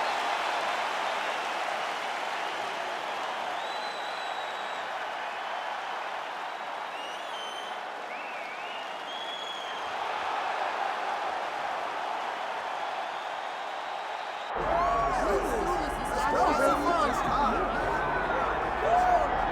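Arena crowd in the UFC 5 fight game between Aleksandar Rakic and Dominick Reyes, a steady roar of cheering and applause that swells louder near the end, with commentary voices running over it.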